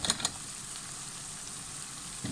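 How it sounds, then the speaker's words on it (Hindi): Kachnar flower buds frying with minced meat (keema) in a pan over medium-low heat, a steady soft sizzle throughout with a couple of brief stirring clatters at the start. "कचनार मैंने ऐड किए हैं और इसको अबाउट 5 मिनट्स मैं मीडियम लो हीट पे फ्राई करूँगी"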